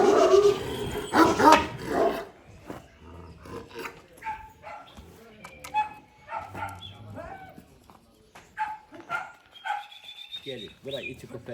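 Several dogs bark and yip in short bursts close by, loudest at the start, with people talking over and between the barks.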